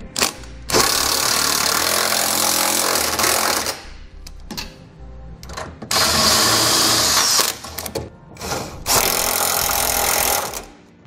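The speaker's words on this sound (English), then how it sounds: "Now we'll tighten down our hardware using a 19 millimeter socket." An impact or power drill tightens the trailer hitch bolts with a 19 mm socket on a 2013 Chevrolet Express van, running loud in three long bursts separated by short pauses and quieter handling noise.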